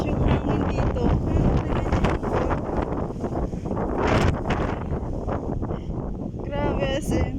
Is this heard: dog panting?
no